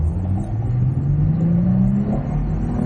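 A Mazda CX-30 petrol mild-hybrid engine pulls hard under acceleration in third gear at about 100 km/h, its tone rising steadily over a loud continuous rumble of road and cabin noise.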